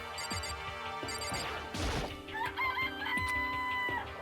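A chicken in Danganronpa: Trigger Happy Havoc gives squawking clucks and a crowing call after a sharp crash and a couple of chiming game blips.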